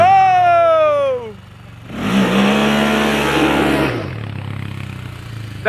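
A motorcycle engine revs hard in a burst of throttle, rising and falling over a couple of seconds, loud and close after an earlier descending engine whine, with people talking around it.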